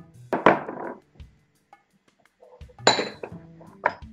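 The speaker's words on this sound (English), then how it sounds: "I'm gonna add my hardest vegetables first, starting with my carrots and celery." Chopped carrots and celery tumble into a chili pan with a couple of bursts of clattering and sizzling against metal, separated by near silence, close by.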